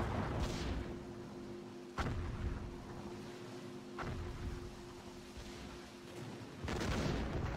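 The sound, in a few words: 9.2-inch naval guns firing, from video game Distant Guns: Jutland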